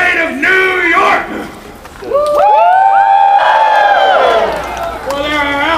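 An outdoor crowd at an American Revolution street reenactment erupts in cheers at news of a victory. Many voices shout and whoop together, swelling loud in the middle, with calls from single voices before and after.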